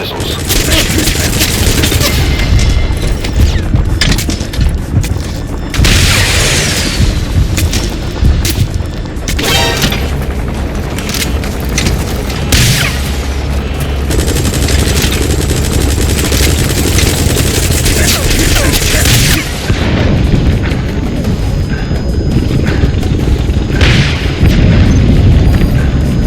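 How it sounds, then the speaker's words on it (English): Enemy gunship attack in Metal Gear Solid V: loud continuous automatic gunfire and heavy booming explosions filling the whole stretch, dense and close, with bursts and blasts layered throughout. "That's an enemy gunship."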